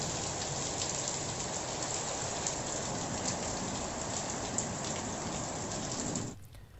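Heavy rain during a strong storm in Bihar, a dense, continuous roar of downpour hammering surfaces, loud and steady throughout before cutting off abruptly at the end.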